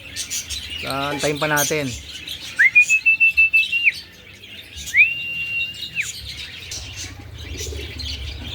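Racing pigeons at a loft during a two-lap fun race in Calauag, Quezon, with wing flaps and chirps among birds, two sustained whistle-like tones near the middle, and someone talking at the start.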